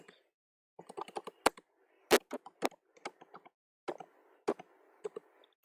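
Keystrokes on a computer keyboard during a Linux installation in VirtualBox, sparse clusters of close, clear taps with sharper single key presses standing out against near silence.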